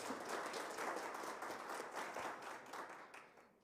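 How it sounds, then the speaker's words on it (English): A crowd applauds the chairperson of the Opuo Town Council Management Committee at a regional business meeting, dense sustained clapping at even loudness that tapers slightly near the end. "Let us give the chairperson of the Opuo Town Council Management Committee another round of applause."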